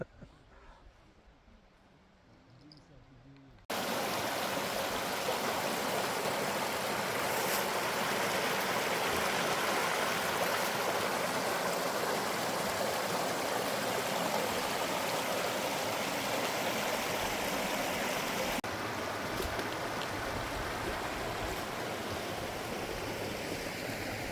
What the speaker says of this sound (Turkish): çok güzel bir su akıntısı